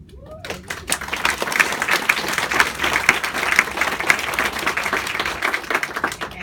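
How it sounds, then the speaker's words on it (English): A crowd at a Politics and Prose event for Georgia gubernatorial candidate Stacey Abrams breaks into applause that swells quickly and stays loud and dense, with occasional sharper claps and a murmur of voices. "I appreciate the applause"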